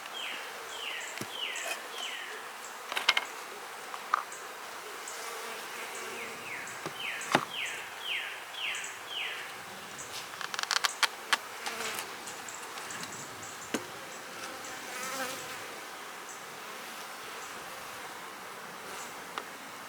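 Honey bees buzz around an open hive box being fed, with repeated short buzzy passes of single insects coming close and fading, over a steady low hum and occasional faint birdsong outdoors.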